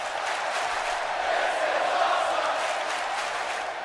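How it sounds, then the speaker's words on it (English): A wrestling arena crowd roars steadily in a WWE 2K16 NXT match, a dense, loud, sustained wash of chanting and cheering with no clear breaks. "The crowd chanting, "This is awesome,""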